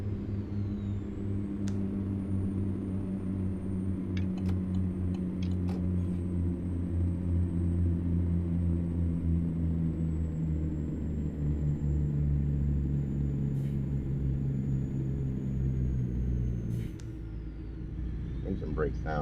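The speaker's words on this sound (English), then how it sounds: "Engine brake sounds great." A low, steady truck engine-brake rumble from American Truck Simulator, on a 10,000-horsepower engine mod, drones on with a throbbing tone, holding for a long stretch before easing off near the end; a voice talks faintly underneath.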